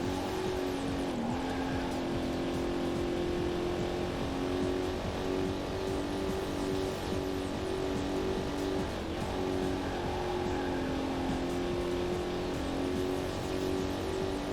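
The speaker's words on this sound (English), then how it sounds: "this car is always just like at high RPM. It's so loud all the time. Always like the same pitch of engine." Sustained high-RPM car engine drone from the Corvette: 50th Anniversary racing game, loud and steady at a nearly constant pitch throughout, with no talking.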